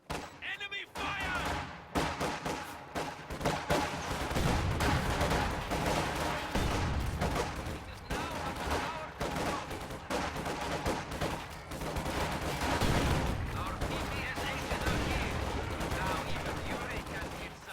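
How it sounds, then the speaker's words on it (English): Dense gunfire and artillery from a WWII strategy video game battle: rapid crackling shots and heavy thumps overlap in a continuous barrage, with faint voices mixed in. "Enemy fire."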